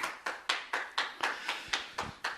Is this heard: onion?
no